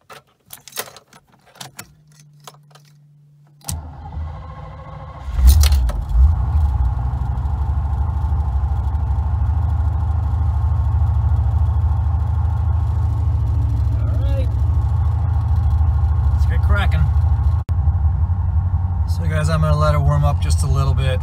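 A 1984 Chevrolet Corvette with a 4+3 transmission cranks and fires up on a cold day after keys jingle, then settles into a steady, loud engine rumble that carries on through the drive, with someone talking over it at times.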